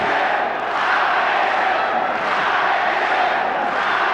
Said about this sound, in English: I don't know if you folks at home can hear the cheering, but they were chanting Alexander